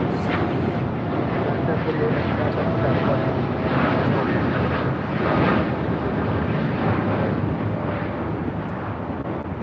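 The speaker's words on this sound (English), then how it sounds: "1048 taking off to Denver, Colorado on a 787-9 Dreamliner" A United Boeing 787-9 Dreamliner takes off at LAX with a loud, sustained engine roar and rumble that swells and pulses slightly throughout, while a voice talks at times over it.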